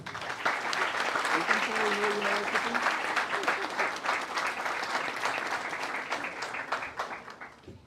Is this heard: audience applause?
yes